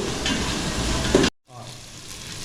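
Ginger and garlic frying in ghee for a pulao, a steady close sizzle and crackle that cuts out briefly, then resumes more softly.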